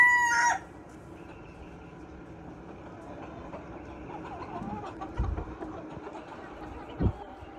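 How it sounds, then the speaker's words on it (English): Chickens at a farm run shared with emus, a rooster's crow rising sharply at the start and then fading into soft, scattered clucking and rustling at a moderate distance. "But the chickens seem very happy to have some more room"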